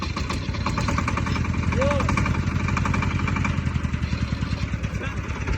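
A tractor engine runs at a steady idle close by, its rapid rhythmic chug continuing throughout under a voice.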